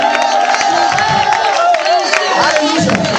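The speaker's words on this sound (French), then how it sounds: "Poussez des cris de joie, des cris de" A church congregation at a night prayer vigil shouts out cries of joy and triumph, a loud, continuous mass of overlapping voices and cheering that fills the whole moment.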